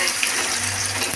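Sliced onions with cumin frying in hot oil: a steady, close hiss and crackle of sizzling fills the whole moment, with a faint low hum underneath.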